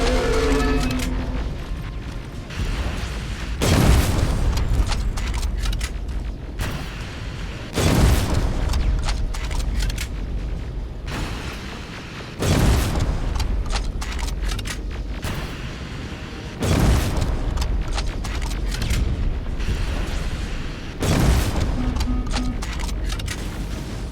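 A T-47 machine being destroyed in Terminator Resistance, a series of heavy booming blasts recurring every few seconds over a continuous roaring, mechanical rumble, loud and sustained with no speech.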